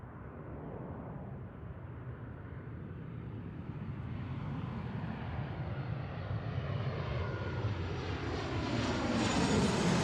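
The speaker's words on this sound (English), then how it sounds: "next up is our Alaska flight. This is from JFK," An Alaska Airlines Boeing 737-800 arriving from JFK passes with a broad, steady engine roar that swells steadily louder and closer over the whole span, no talking.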